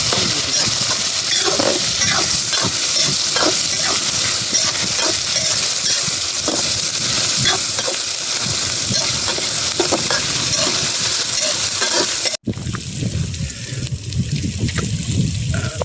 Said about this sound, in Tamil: நல்லா வதக்கணும். கருவேப்பிலை போட்டுக்கலாம்.